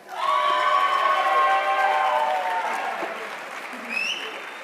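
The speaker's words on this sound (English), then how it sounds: "One more round of applause." Applause and cheering from an awards-ceremony crowd honoring the Chi Alpha Sigma 2022 inductee class, steady clapping with some shouts that gradually thins out over several seconds.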